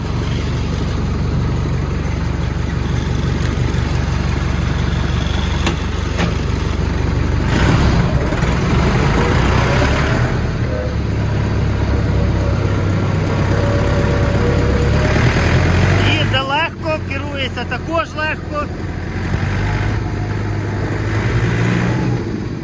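John Deere 3050 tractor engine running steadily while driving, a loud continuous low rumble with slight shifts in pitch and no talk.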